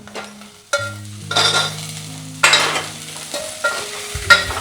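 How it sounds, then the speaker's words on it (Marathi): Onion and asafoetida frying and being stirred in a pan, with sizzling bursts and scraping of a spoon recurring at close range with no talk. "कांदा आहे ना असा एकदम लालसर असा परतून द्यायचा."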